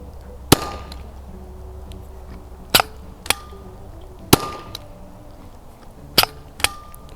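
Metadyne Phoenix paintball marker firing six sharp, isolated shots at irregular intervals, each a crisp crack with a brief ringing tail, heard alone over faint background hiss.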